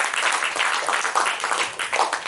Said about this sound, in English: A huge round of applause for Dr. Ramnath and Dr. Shantanu Das.